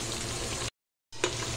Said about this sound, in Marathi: लसूण पण तेलात परतून घेऊया।